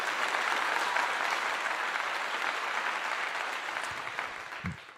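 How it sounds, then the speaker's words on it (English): Applause from a group clapping for fans in the Bahamas, steady and dense at first, then thinning and fading toward the end. "Let's give a clap to the folks in Bahamas."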